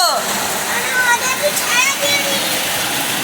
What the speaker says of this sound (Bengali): আরে প্রচুর বৃষ্টি পড়ছে